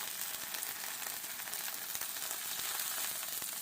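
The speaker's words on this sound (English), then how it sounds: "Since we're cooking them in the sauce with the cheese inside." Oxtail birria tacos filled with cheese cooking in sauce in a pan, a soft steady sizzle and bubbling with faint scattered crackles, close and continuous, no talking.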